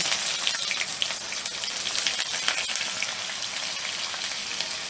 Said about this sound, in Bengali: পেঁয়াজটা একটা বড় পেঁয়াজ কুচিয়ে নিয়েছি এটাকে আমি ভেজে নিচ্ছি